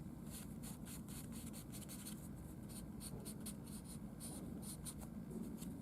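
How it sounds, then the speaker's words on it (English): Soft charcoal pencil drawing on paper, a continuous faint scratchy rasp of quick repeated strokes, very close and quiet with no talking. "I can take my soft charcoal pencil and just define that edge a little bit better"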